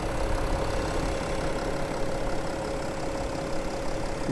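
A 2014 Porsche Cayenne Diesel Platinum Edition with a 3-liter V6 turbo diesel idles steadily, a low, even rumble with a faint constant whine, moderately quiet and without voices.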